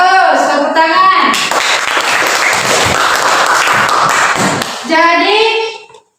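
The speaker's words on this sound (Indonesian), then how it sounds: "Bagus, tepuk tangan." Children in a Quran lesson clap their hands in a burst of close, busy clapping, with voices chanting before and after.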